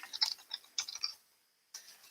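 Quiet keyboard typing during an online meeting: faint, quick clusters of key taps, a short pause, then a lone tap near the end, with no talking.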